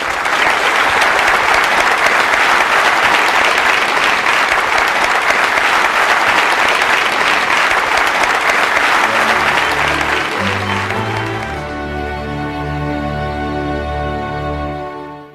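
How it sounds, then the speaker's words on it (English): Loud, sustained applause from a large audience fills the room, then fades as a few soft musical notes come in near the end. "Let's hear it for Elizabeth"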